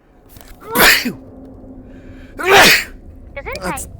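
Sneezes indoors in a dusty hole, loud and close: two forceful sneezes about two seconds apart, followed by a smaller third sneeze-like burst, with quiet room tone between them.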